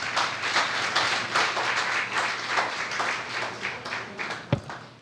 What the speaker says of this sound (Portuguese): E palmas ao Rei Jesus.